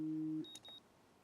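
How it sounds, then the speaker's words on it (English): Short electronic alarm clock beep from the Life is Strange video game, a steady tone lasting under half a second that then cuts off, followed by faint quiet blips. "Alarm clock. Snooze."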